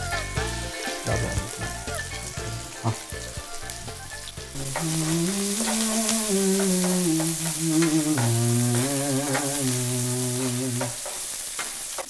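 Scallion and ginger slices stir-frying in a wok, loud continuous sizzling with scraping stirs and music playing over it, and a brief voice at the start.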